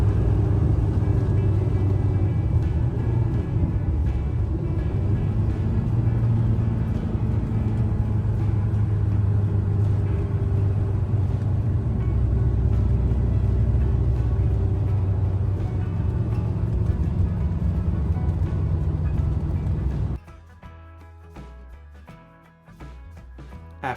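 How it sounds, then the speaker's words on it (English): A Porsche 914 drives along the road, heard from inside as a steady, loud, low engine drone with shifting tonal hum throughout, then cutting abruptly to a much quieter rumble near the end. "we had to drive the car there"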